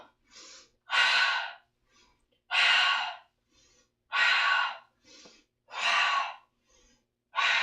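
Slow, deep breaths during a Pilates exercise: four strong airy exhales alternate with softer, shorter inhales in a steady rhythm, close and clear, with no talking.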